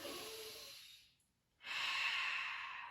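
Slow breathing during a yoga stretch for lower back relief: a long audible exhale fades, a brief quiet gap follows, then a fuller inhale, close and alone.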